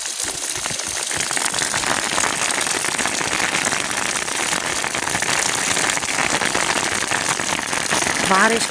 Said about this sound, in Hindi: बारिश का पानी आज बहुत ज़्यादा है माशाल्लाह से